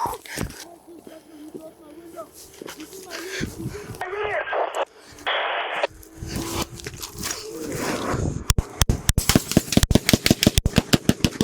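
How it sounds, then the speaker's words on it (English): Rapid gunshots crack out in a dense, uneven burst near the end of a chaotic police foot pursuit, following shouting, radio chatter and scuffling close by. "Shots fired. Shots fired."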